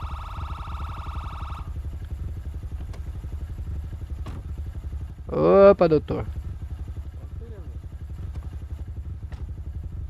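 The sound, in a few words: motorcycle engine in GTA RP video game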